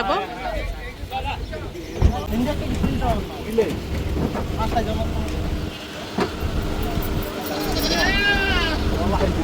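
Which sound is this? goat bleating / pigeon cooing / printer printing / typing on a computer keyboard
goat bleating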